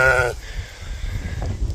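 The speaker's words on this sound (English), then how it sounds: "The rest of the sheep flock is coming." A sheep from a small farm flock during a hot Kansas summer gives one short, clear bleat at the start, followed by quiet low background rumble.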